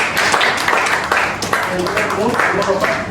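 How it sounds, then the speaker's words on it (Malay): Students clapping in a classroom, short uneven bursts of applause from a small group, with a voice speaking over the clapping. "Beri tepukan untuk kamu."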